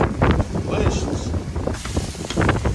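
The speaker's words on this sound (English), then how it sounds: "It's so windy out here." Gusty wind rumbles across the microphone in low bursts while someone talks nearby.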